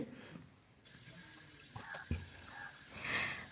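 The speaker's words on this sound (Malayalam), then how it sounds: "ആ കുക്കറിൻ്റെ മൂടിയും കൂടി ഒന്ന് കഴുകി വെക്കുന്നുണ്ട്" Tap water runs into a kitchen sink as a pressure cooker lid is washed under it, a close splashing stream broken by a couple of light knocks of the lid against the sink.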